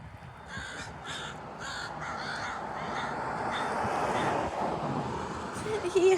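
A young crow gives a series of rough, repeated caws, moderately close, with wind noise and faint background sound throughout.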